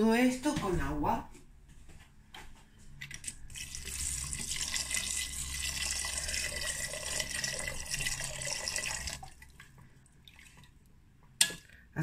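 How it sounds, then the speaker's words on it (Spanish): Water poured from a tap or jug over chickpeas in a cooking pot for a chickpea and salt cod stew, a steady splashing fill lasting several seconds at moderate volume with no speech. "cubriremos todo esto con agua"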